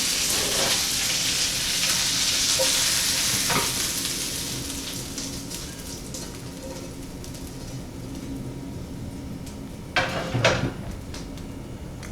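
Korean-style beef tripe frying in a pan, a dense sizzle and crackle running throughout, with clattering spatula scrapes and flips near the end.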